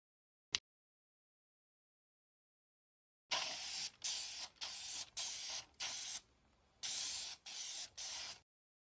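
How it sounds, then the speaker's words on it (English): A sharp click, then an airless paint sprayer hisses in eight short bursts with brief pauses between them, loud and close, the product not spraying well. "the product isn't spraying all that well"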